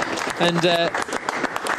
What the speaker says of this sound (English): Norbert Vettel is getting a round of applause in the Aston Martin garage